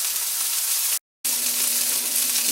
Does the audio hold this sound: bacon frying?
yes